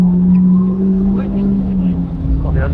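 A Honda CBR1000RR Fireblade SP motorcycle engine hums steadily at idle for a few seconds, a close, even drone with faint voices in the background.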